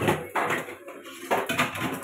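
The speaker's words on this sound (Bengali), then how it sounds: "আর এখানে মেয়ে বাসন মাজছে।" A girl scrubbing dishes, with metal pots and plates clattering and knocking in several close, sharp bursts over two seconds.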